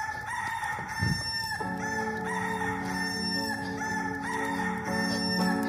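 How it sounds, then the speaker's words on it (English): Rooster crow played as a sound effect in a church Easter play, sounding once clearly over a continuous sustained musical underscore, with a brief thump just before it; no one speaks. "Before the rooster crows"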